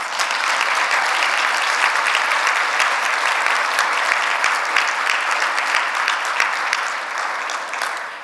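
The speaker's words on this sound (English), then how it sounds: "One more round of applause for our TSAs." Dense, steady audience applause at a conference closing session, loud and sustained for about eight seconds with no talk over it, tapering slightly at the end.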